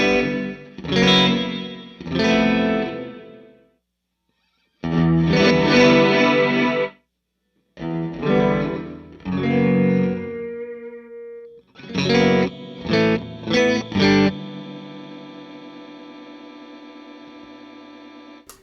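Guitar played through an Eventide H90 Hall reverb preset: several short phrases and chords separated by pauses, ending in a long sustained chord with a lingering reverb tail.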